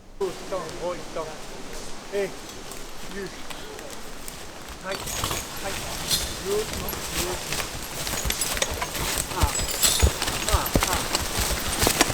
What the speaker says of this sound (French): C'est pas un cheval mais une attelée de chevaux.